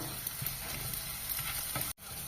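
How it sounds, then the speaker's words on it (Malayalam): Green chillies, ginger and crushed garlic frying in a pan of browned shallots for coconut rice, giving a steady close sizzle with soft stirring scrapes and no talk, broken by a brief cut near the end. "അതിലേക്ക് രണ്ട് പച്ചമുളക് ഒരു കുഞ്ഞു കഷ്ണം ഇഞ്ചി നാല് വെളുത്തുള്ളി ചതച്ചത് ഇടുക"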